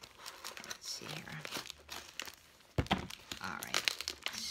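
Duct-tape-wrapped mail package being cut and pulled open, close crinkling and tearing bursts with a sharper rip partway through, mixed with a person talking.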